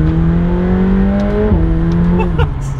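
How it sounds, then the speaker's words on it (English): McLaren 720S in sport mode with light throttle blips, its twin-turbo engine note rising and wavering close by, a steady droning tone with a brief stepped shift midway and a faint whistling spool above, no talking. "It's just feathering the throttle. You can hear the turbo spool winding up."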